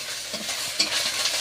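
Mouti fish fry in a pan, a soft, steady sizzle with faint stirring scrapes. Close and quiet, with no voices.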